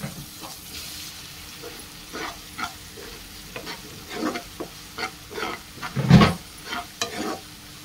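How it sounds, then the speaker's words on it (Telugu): Ginger garlic paste with a little turmeric frying in a pan, with irregular stirring scrapes and bursts of sizzle recurring every second or so, growing louder toward the end, with no talk. "కొంచెం అల్లం వెల్లుల్లి పేస్ట్ వేసుకొని అల్లం పేస్ట్ పచ్చి వాసన పోయే వరకు మంచిగా వేయించుకోవాలి"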